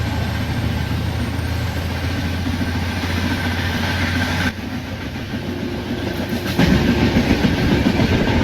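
A simulated train in the Indian Train Simulator game rolls along the tracks with a steady rumble and clickety-clack, with abrupt shifts in the sound track partway through and no talk.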